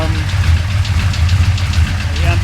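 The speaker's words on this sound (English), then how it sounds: "it's running, it's idling on its own" A 1966 Chevy Impala with a 427 engine idles on its own after 20 years abandoned, a loud, steady low rumble with a faint rapid ticking tap from the back of the engine. A voice talks over it.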